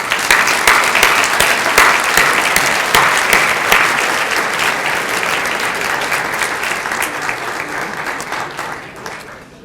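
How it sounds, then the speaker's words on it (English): Applause at a university benefit dinner, a large room of guests clapping loudly and steadily before gradually thinning and fading toward the end. "let's give a round of applause to AUC's great friend for this unheralded generosity"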